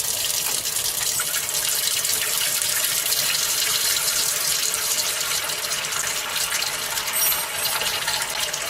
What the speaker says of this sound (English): start filling a tray with water. So we can just use normal cold water.